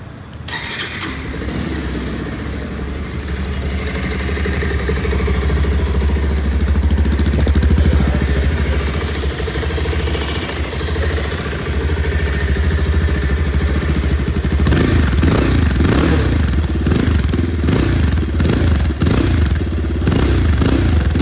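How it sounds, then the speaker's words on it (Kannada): A Bajaj Pulsar 220F motorcycle idles with a steady, loud, throaty engine and exhaust note, then blips the throttle in several rough, rising revs toward the end. "ಹಾಗೆ ಈ ಒಂದು ಬೈಕ್ ನ ಎಕ್ಸಾಸ್ಟ್ ನೋಟ್ ನ ನೋಡ್ಕೊಂಡು ಬರೋಣ ಬನ್ನಿ"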